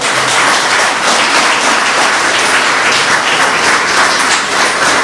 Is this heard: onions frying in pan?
no